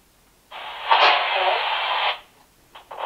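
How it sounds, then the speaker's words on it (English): A loud burst of walkie-talkie static hisses for about a second and a half, then cuts off, followed by short crackling blips. "Did your walkie-talkies like make a big crazy noise"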